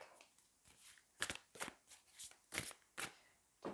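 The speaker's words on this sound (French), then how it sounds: "Et je prends une dernière carte." Tarot cards slid and drawn from a deck during a reading, a series of crisp papery swishes and flicks, close and soft, with no talking.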